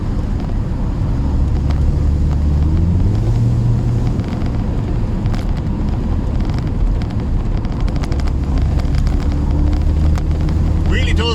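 A Mercedes-Benz SLK 200 R171 in sport mode on a twisty road, its engine droning steadily from inside the cabin as the pitch climbs and drops through gear changes, with wind and road noise all along.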